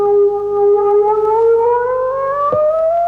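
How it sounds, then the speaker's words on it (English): A kaleidophon, a touch-sensitive electronic string instrument, sounds a single clear sustained tone that glides slowly upward like a siren, steady and fairly loud, heard alone. "the kaleidophon is sensitive to touch. The harder you press the strings, the louder and brighter the sound."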